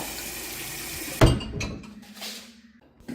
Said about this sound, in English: I like to rinse out the bottle after I drilled the hole in it, just to eliminate any glass that might be inside it